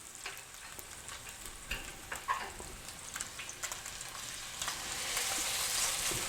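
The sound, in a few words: salmon searing in a hot pan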